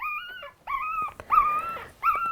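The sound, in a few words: one week old mini labradoodle puppies fussing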